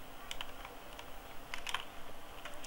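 Close, quiet taps on a computer keyboard as a short command is entered, a handful of light irregular keystrokes over steady background hiss.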